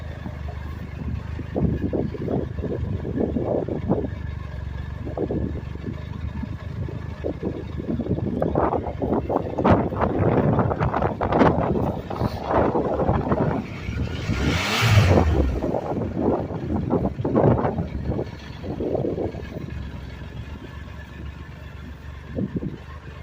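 A Triumph Trophy SE three-cylinder motorcycle engine starts and idles with an uneven, throbbing note, a brief rise in revs midway, and steady wind noise over the microphone throughout.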